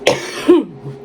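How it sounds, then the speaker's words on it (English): A single sharp cough from a sick person, up close and loud, followed by a brief throat-clearing rasp, then quiet. "Yes, I still have a cough."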